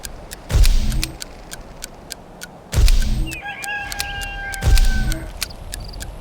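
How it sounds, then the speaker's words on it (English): A rooster in the god game Black & White 2 crows three times at an even pace, each call loud and close with a strident drawn-out tail, over a low ambient bed with faint ticking. "Roosters always crow when the sun comes up."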